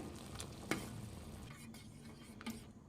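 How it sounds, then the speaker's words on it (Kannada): Pasta boiling in a pot for a sweet pasta kheer while a spoon stirs it, a faint bubbling hiss with a few soft clicks of the spoon against the pot and no talking. "ಮಿಕ್ಸ್ ಮಾಡ್ತಾ ಇರಿ, ಇಲ್ಲಾಂದರೆ ತಳ ಹಿಡಿದ್ಬಿಡುತ್ತೆ."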